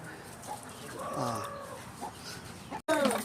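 Chickens clucking and a rooster-like call nearby while being fed in the countryside, a few bird vocalizations over faint background noise, ending with a brief cut and a louder squawk.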